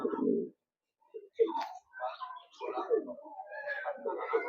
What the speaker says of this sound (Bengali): পায়রা দেখুন আমার হাতেই ডাকছে।